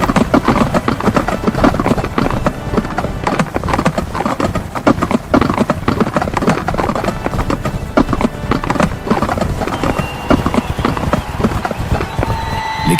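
Galloping horses in a race pound out a dense, steady clip-clop of many hooves, loud and continuous, with an occasional whinny and a faint voice now and then beneath the drumming.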